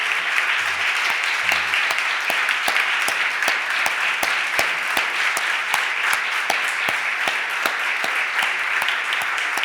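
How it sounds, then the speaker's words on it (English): A room at a Philadelphia City Council meeting breaks into steady applause, dense clapping at an even level for nearly ten seconds with no talking over it. "ask you to stand up so we can give you a round of applause"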